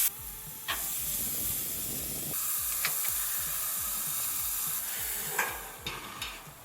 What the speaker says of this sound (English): Just look at that sizzle.